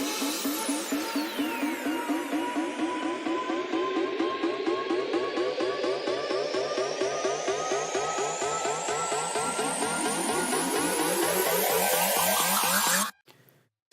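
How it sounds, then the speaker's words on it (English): A video game sound effect from the Sounds of Kashmir pack, drawn from Mario Kart 8, rises steadily in pitch while a filter opens, a buzzing engine-like rush with stuttering pulses that runs loud and continuous before cutting off abruptly near the end. "adding a video game sound from the Sounds of Kashmir pack"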